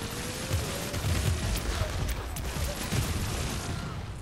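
Dense, rapid bursts of booming explosions and crackling blasts pile up continuously, loud and chaotic, in the video game Infamous Second Son.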